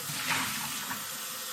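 Tap water runs into and splashes around a cooking pot during a quick rinse, a brief, soft rushing wash heard alone.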